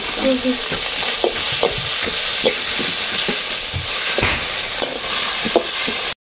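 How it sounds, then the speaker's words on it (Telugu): Masala with tomato sauce and red chilli sauce fries in a pan for gobi manchurian: continuous close sizzling with repeated scraping stirs and clacks of a spoon against the pan. "కొంచెం ఈ మసాలా అట్లా ఫ్రై అయ్యేది"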